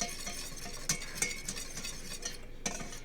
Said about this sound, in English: And you're just going to keep whisking until there's no lumps